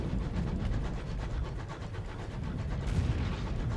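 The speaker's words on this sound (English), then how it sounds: "Just concentrate on the soothing sounds of the train." Train sounds from the video game Sunless Skies: a steady, dense rumbling chug with a rapid rhythmic pulse, loud and continuous throughout, with no talking.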